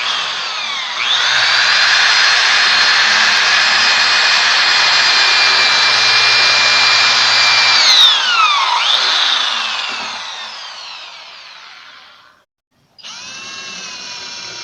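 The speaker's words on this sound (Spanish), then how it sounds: "Para hacer la perforación, primero utilizaremos nuestra broca fina ubicándolo en el medio" Fine-bit drill boring into a wood and melamine panel for a modern table, a loud steady whine that holds for about eight seconds, then dips in pitch and winds down, followed after a short gap by a brief second burst.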